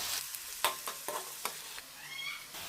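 Chopped onions fry in hot oil in a pan for a spicy chicken liver and gizzard curry: a steady, soft sizzle with several light clacks of a spoon stirring, close and fairly quiet.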